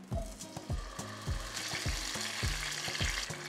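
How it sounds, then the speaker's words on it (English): Pinto beans frying in hot bacon fat for Mexican frijoles, with a steady close sizzle and repeated rhythmic scraping strokes of a spoon or spatula stirring them in the pan. "once your pan is heated up, we're gonna add in some of our beans."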